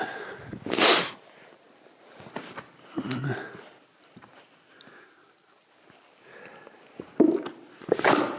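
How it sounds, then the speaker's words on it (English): A person sneezes inside a cave, with sharp, loud bursts near the start and end, separated by quieter sniffs and shuffling movement. "I don't even know why I'm sneezing."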